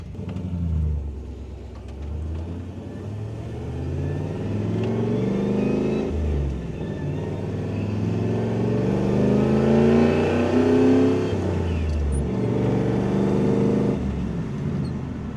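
An LS-swapped Dakota truck engine revs up through several rising pulls while driving, its steady deep exhaust drone loud and close with brief dips between shifts.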